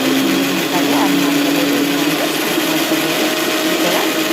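A kitchen mixer grinds tender coconut with sugar and mint in a steady, loud motor whir that runs unbroken while a person talks over it.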